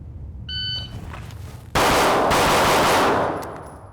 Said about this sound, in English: Draw, fire 6 rounds, going for all A zone